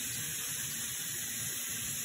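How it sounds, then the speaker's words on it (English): Warm water runs steadily from a sink tap during handwashing with soap, a constant close hiss of flowing water with no break. "Nice warm water, and some soap."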